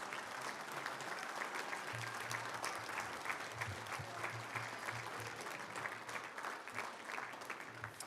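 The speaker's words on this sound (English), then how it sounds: "Another round of applause for all of our elementary DI winners" Applause at a school district board meeting for elementary Destination Imagination winners, steady sustained clapping from a room of people at moderate level, with a low voice briefly audible underneath.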